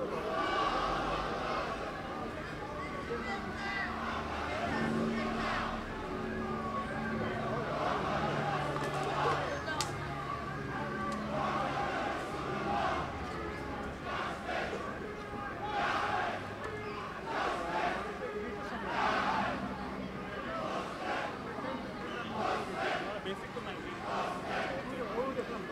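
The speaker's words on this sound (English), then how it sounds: "everyone is chanting justice, justice" Large street protest crowd outside an embassy in a demonstration against the massacre of Rohingya Muslims in Burma, chanting justice in a steady rhythmic call, dense and continuous with many voices close and far across a wide road.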